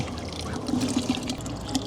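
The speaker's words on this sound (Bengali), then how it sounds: "ওই যে দেখছেন পানি ফ্লো দেখছেন এত স্পিড" Faint, steady trickle of water flowing into a fish tank with soft gurgling, heard alone at low volume.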